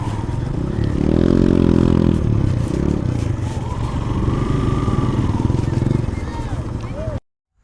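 A motorcycle ridden with friends near the zero-point gate at Bholaganj, Sylhet, its engine droning steadily and swelling loudly in the first seconds, with voices talking over it before the sound cuts off abruptly.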